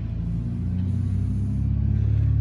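A Tarragon light aircraft engine runs up with a DUC Cobra propeller, a steady low droning rumble with a slight rise in intensity, heard close and continuous without talk.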